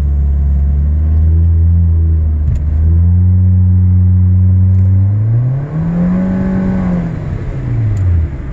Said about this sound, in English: once you pass that 3000 RPM mark, the engine sound takes over